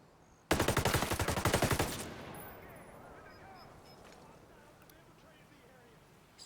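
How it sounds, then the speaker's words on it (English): Gunfire in the tactical shooter Ghost Recon Breakpoint at an enemy base: a loud rapid automatic burst of about twenty shots lasting over a second, then a fading echoing tail into quiet ambience. "I feel like everyone in this base should have heard those gunshots"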